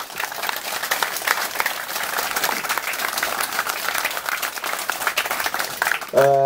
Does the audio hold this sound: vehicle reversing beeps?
no